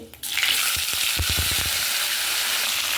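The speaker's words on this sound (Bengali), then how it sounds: "লবঙ্গ এক টুকরো দারচিনি একটা বড় এলাচ আর জৈত্রী আমি দিয়ে দিচ্ছি এবার তেলে" Whole cloves, a cinnamon piece, cardamom and mace hit hot oil for chicken rezala, bursting into a loud, close sizzle with a quick run of sharp crackles and pops that settles into steady frying, with no voices.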